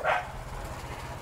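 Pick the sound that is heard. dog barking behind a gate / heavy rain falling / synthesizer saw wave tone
dog barking behind a gate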